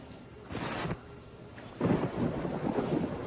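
Thunder from an approaching major thunderstorm rolls in two low rumbling swells, the second louder and longer, with wind and rain noise behind it and no voices.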